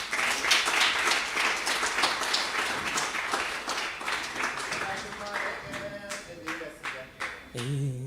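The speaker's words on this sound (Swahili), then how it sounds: "Pigia makofi ya kikundi" A church congregation claps for a choir group, brisk and fairly loud at first, then thinning into scattered claps as a sustained musical tone rises near the end.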